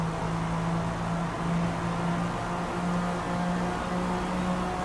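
A '97 McLaren F1 GT engine drones steadily in a racing video game, a sustained even hum with little change in pitch, holding at a constant level throughout.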